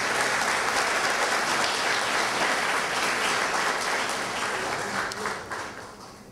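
Steady, dense clapping from an audience at a formal ceremonial session marking Independence anniversary in Miraflores, Lima, holding even before thinning and tapering off near the end.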